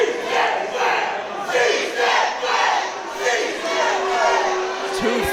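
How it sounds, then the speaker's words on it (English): A wrestling crowd at an independent show roars and cheers continuously in loud, swelling waves throughout, with a brief whistle-like tone near the end. "The CCW crowd loves Ozzy and S2S."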